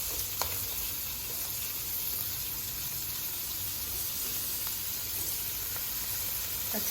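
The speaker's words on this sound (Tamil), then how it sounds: "நறுக்கி வச்சுருக்க வெங்காயத்தை இதில் சேர்த்துக்கணும்." Chopped onions with curry leaves frying in oil in a pan while cooking South Indian chicken masala, a steady close sizzle with faint clinks and no talking.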